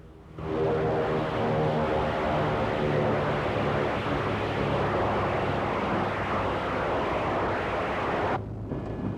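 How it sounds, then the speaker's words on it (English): Piston engines of a North American B-25 Mitchell bomber roar in a loud, sustained, throbbing drone close by, with a sudden cutoff near the end. "the North American B-25 Mitchell bomber"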